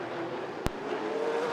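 Super late model race cars run a feature race at Rockford Speedway. A steady engine whine carries throughout, broken by one sharp click partway through.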